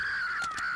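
A crow gives two quick, harsh caws in succession, fairly clear against a steady background hum.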